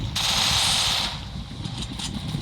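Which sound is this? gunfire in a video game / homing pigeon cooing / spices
gunfire in a video game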